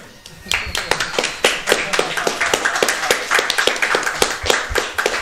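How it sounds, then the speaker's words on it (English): Audience clapping at a SpeedCon 2018 speedrun event, a steady run of sharp, close hand claps spread across the whole stretch, with a voice speaking over it. "now you can clap"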